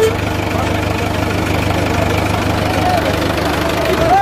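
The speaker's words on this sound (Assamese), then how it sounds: "ট্ৰেক্টৰখন মই চলাম" A tractor engine runs at a steady idle close by, a continuous low throbbing drone with a faint knocking texture, while voices talk over it.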